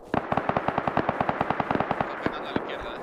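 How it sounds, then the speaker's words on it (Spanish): Automatic weapon fire in the survival video game Rust, a rapid string of sharp gunshot bursts in quick succession, loud and close, tapering to a few spaced shots at the end. "Le están disparando, están aquí pegándose tiros."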